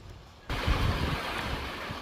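A small creek on a summer trail toward the Emerald Pools, its flowing water a steady broadband rush that starts abruptly and continues close and fairly loud, slightly wind-buffeted.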